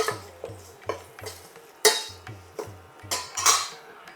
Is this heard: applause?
no